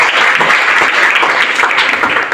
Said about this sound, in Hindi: ताली अपने लिए बजा दीजिए